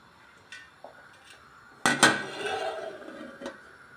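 A metal pot of bean stew gets a few light spoon clinks, then a loud lid clatters onto the rim and rings briefly, followed by one softer knock.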